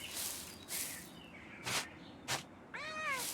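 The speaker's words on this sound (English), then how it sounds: "Oh, Mousefanger is the cat." A cat meows in the video game Pentiment, several short mewing calls, then a longer wavering meow near the end, close and clear over a soft game background with no talking.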